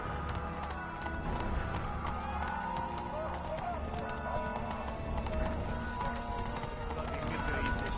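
Roach the horse gallops in a Witcher video game, a fast, steady clip-clop of hooves close by under continuous game music and ambience, with a voice speaking over it.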